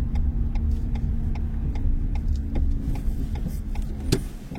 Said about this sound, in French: Il y a une voiture.